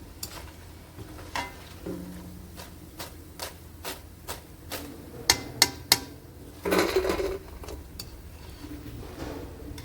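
Spinach pakoras fry in oil with a soft steady sizzle, broken by sharp clinks and taps of utensils against the pan and a brief louder burst of bubbling near the end.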